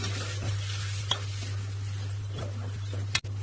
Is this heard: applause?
no